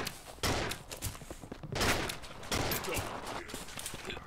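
Shotgun blasts in the video game Capsular, a rapid burst of loud booming shots with dense rattling gunfire throughout, close and sustained, no talk over it.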